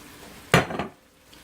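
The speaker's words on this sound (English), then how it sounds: "Take your large head of cauliflower that you've already cut up and dump all of that in there." A large head of cut-up cauliflower is tipped into a big pot with butter and bacon grease, giving a single short clattering, rattling thump with a slight sizzle, close and otherwise quiet.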